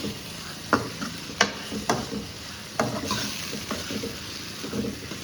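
Ginger garlic paste sautés in a pan with a continuous low sizzle, punctuated by several sharp spoon scrapes and taps against the metal.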